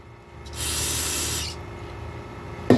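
A short burst of spray hisses for about a second, cleaning a Husqvarna chainsaw bar, followed by quiet and a brief scrape or clunk at the end.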